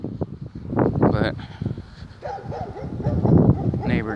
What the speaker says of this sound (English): neighbor's dogs